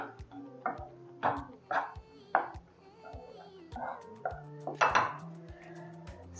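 Food being stirred in a pan after lemon is added, for a quick kids' lunch box dish, with soft repeated scraping and clinking of a utensil against the pan in an irregular rhythm.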